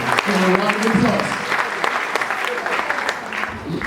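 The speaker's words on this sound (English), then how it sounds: "A round of applause for my brother, Pablo." A crowd at a live comedy show applauds loudly, with thick continuous clapping and a host's voice talking over the start.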